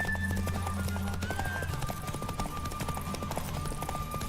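Rhythmic clip-clop of horse hooves at a steady gallop in a video game, fairly close, with a low sustained tone and a thin high whine behind it.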